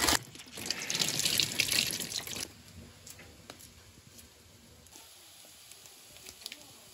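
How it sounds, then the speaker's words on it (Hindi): Tap water runs into a kitchen sink while coriander leaves are washed, a loud rushing splash for a couple of seconds, then it stops and only faint drips and small clinks remain. "तो पहले इसमें मैं धनिया डाल देती हूँ धो के।"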